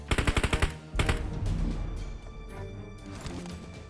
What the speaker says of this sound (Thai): มีคนยิงมาพี่ถอยถอย